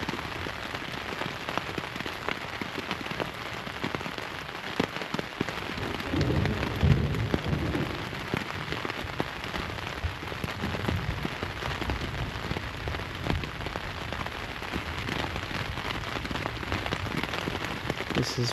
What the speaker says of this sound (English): This has been one of the most memorable lightning storm thunderstorms of my life.